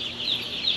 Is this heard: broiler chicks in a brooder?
yes